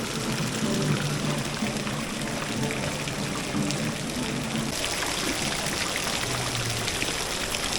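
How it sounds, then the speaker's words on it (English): Outdoor fountain in Bologna, Italy, sprays and splashes in a steady, close, hissing wash of water, with a low murmur of voices and street noise underneath. "There's fountain water coming out of the dolphin's eyes."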